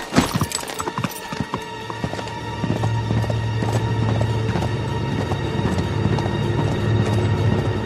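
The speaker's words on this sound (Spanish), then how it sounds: "¡Ahí está mi caballo!" A horse gallops in the Uncharted 3 video game, with rapid hoofbeats and thuds at the start that give way to a steady mechanical rumble and drone.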